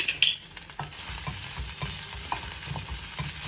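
Green and red chilies hit hot oil in a pan for mor rasam, giving a steady close sizzle and frying hiss. A spoon scrapes and stirs in a loose rhythm throughout. No one speaks.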